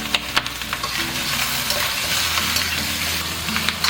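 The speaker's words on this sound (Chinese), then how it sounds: "给它快速翻炒" Lamb sizzles steadily as it is stir-fried quickly in a pan with lard, with soft scraping and tossing clicks over the constant hiss, and no talking.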